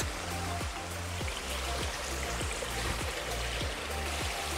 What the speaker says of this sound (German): Ich werde jetzt noch den größten von diesen Wasserfällen mitnehmen.